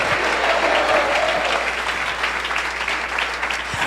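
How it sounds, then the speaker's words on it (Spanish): A church congregation applauds loudly for the Lord during a sermon on unbelief, dense continuous clapping filling the room with a low hum underneath. "Aplauso fuerte al Señor."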